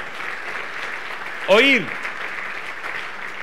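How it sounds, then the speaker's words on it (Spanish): A congregation applauding during a Sunday church service, heard as a steady wash of clapping throughout with a voice breaking in briefly in the middle. "Le da un aplauso grande al Señor, bien fuerte"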